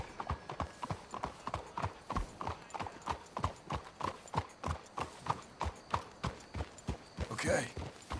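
Horses' hooves clip-clop in a steady, close, rhythmic walk on hard ground in the video game Red Dead Redemption 2, with a brief snort or whinny near the end.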